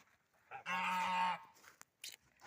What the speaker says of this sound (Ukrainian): Мої гуси.